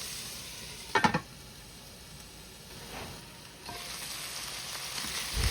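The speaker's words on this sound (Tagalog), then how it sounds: "Igisa lang natin yan saglit" Pork or chicken sautés in a pan for pancit canton guisado with a soft continuous sizzle, a sharp clatter of stirring near the start and a louder frying hiss building toward the end.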